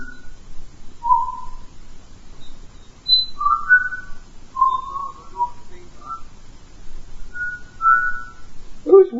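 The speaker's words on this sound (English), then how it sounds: "That's weird, I'm hearing whistling." Faint, scattered whistled notes of unclear origin drift through a room during a live electronics circuit-design session, short tonal bursts separated by pauses over a low background hum.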